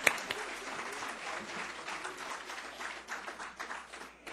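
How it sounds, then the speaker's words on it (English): Audience at a convention awards ceremony applauding: dense, continuous clapping from a crowd for about four seconds, with a sharp clap at the start and a slight fade toward the end. "Please give a round of applause for Ms. Ann Sabularse."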